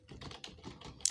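Typing on a computer keyboard while writing C code, a quick run of soft, close key clicks in an uneven rhythm, with one sharper tap near the end and no talk.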